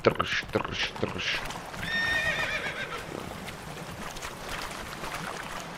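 In the video game The Witcher 3, a horse gives a high, wavering neigh amid clopping hooves and outdoor ambience, with a few sharp knocks early on.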